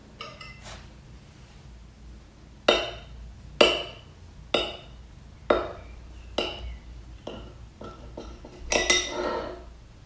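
A knife and serving utensil clink against a plate while a slice of rhubarb cream sponge cake is cut and served. About a dozen sharp metallic taps come at uneven intervals, close and clear, with no speech.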